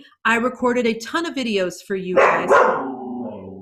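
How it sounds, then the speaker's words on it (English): A pet dog barks in short, sharp bursts indoors, close by, mixed in with someone talking over it. "I am so sorry that my dog is barking."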